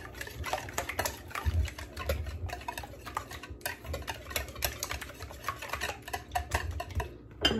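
Garlic mixture for a chicken gratin being stirred, with continuous soft scraping and tapping of a utensil in a bowl, close and moderately loud, with no voices.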